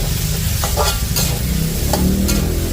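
Chopped tomatoes sizzle in a pan with pork giniling, onion and garlic while a utensil stirs and scrapes, a steady close frying hiss with a few brief clinks.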